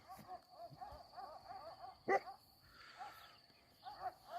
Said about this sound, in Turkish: 5 tane köpek orada havlaşıp duruyorlar.